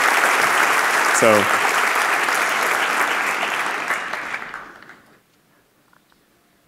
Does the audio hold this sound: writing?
no